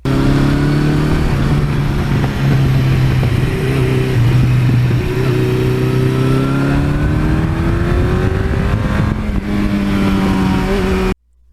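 A 1982 Suzuki GS1100E motorcycle engine revs loud and close, holding a steady throaty drone with rising and falling pitch sweeps for about eleven seconds before cutting off abruptly.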